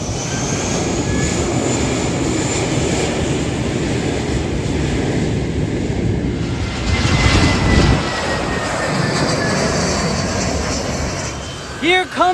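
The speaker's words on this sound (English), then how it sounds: "Here we have a JetBlue plane in front of Maho Beach." A JetBlue airliner at Maho Beach, St. Maarten, gives a loud, continuous engine roar that fills the scene with broad rumbling, and faint voices sit underneath.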